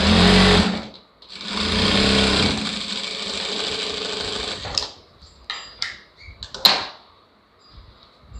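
A sewing machine stitches a lined blouse 1/2 inch in from the edge in two loud, steady runs, then stops. A few sharp clicks and handling knocks of cloth and machine follow.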